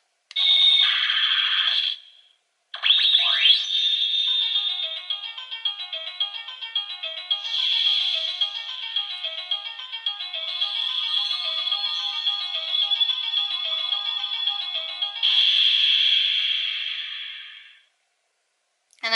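The star button on a Sailor Moon Moon Stick Proplica toy wand plays a bright electronic chime with a short sparkle, then a long, high, tinkling melodic jingle that repeats for well over ten seconds before stopping.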